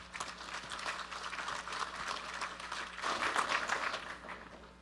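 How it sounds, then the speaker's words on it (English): Audience applause at a developer conference as a speaker comes on stage, a steady patter of many hands at moderate distance that swells louder in the last couple of seconds. "Give a big round of applause for Kartik,"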